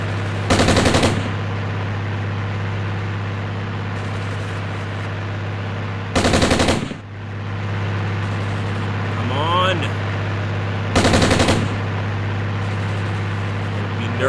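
Bursts of automatic weapon fire from an Italian mechanized infantry unit in the Armored Brigade war game, three short loud rattling volleys spaced several seconds apart over a steady low engine drone.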